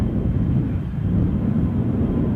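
A KLM Embraer jet at Amsterdam Schiphol airport gives a steady, low engine rumble, heard from a distance and continuing throughout with no voices.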